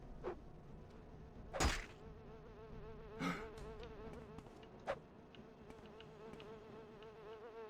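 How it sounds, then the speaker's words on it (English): A bee buzzes in the video game Morrowind, a soft, wavering insect drone that hovers close throughout, broken by a few brief louder thumps and swells along the way. "It's a bee."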